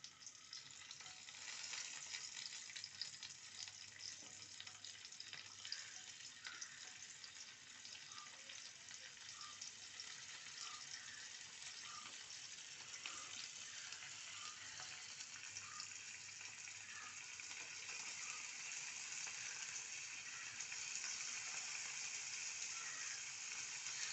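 Fish frying in a pan gives a faint, continuous hiss of sizzling oil that stays even and unbroken for the whole stretch, with no voices.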